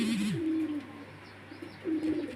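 Pigeons at a market coo close by, one low warbling call at the start and another near the end, over a faint murmur of background noise.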